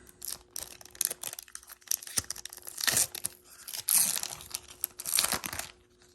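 A 1993 Pacific Prism football card pack is cut and torn open, giving close, bursty crinkling and ripping of the wrapper in several loud spurts with short pauses, and no voices.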